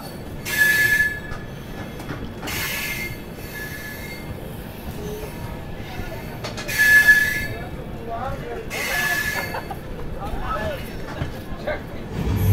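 Purvanchal Express running, heard from inside an LHB coach: a steady rolling rumble with repeated high metallic wheel squeals recurring every few seconds, and muffled voices in the carriage.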